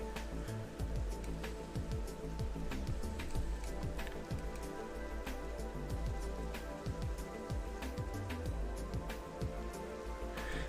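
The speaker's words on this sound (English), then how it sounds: "Okay, it's just a rainstorm." Rainstorm in a base-building video game: steady dense patter of rain on surfaces, constant and moderately loud throughout, with no other sounds standing out.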